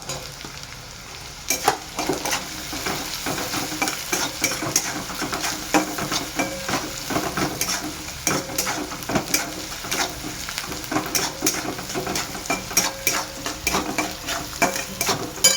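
Chilies fry with onion in a pan while a spoon stirs and scrapes, giving a continuous sizzle broken by frequent clattering utensil knocks, close and fairly loud, with no talking.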